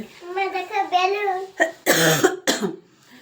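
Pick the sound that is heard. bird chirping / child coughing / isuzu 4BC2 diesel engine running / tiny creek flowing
child coughing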